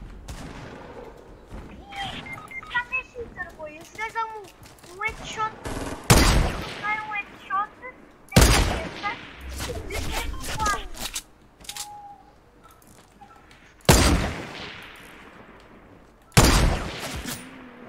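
Fortnite gunfire: bursts of rapid shots and several loud sharp blasts, with electronic tones and beeps between them.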